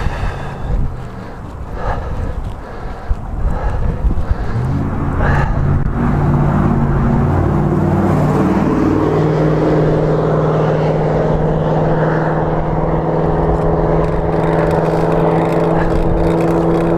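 A loud truck roars past a road cyclist on a cold-weather ride, its engine drone swelling and holding steady under heavy wind rush, with a rising, sustained growl close by.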